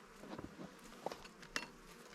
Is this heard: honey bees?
yes